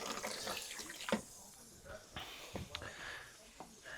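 Water discharges from a XERO Pure Plus water system with a faint, quiet trickling and splashing like a running tap, broken by a few soft knocks and small bursts.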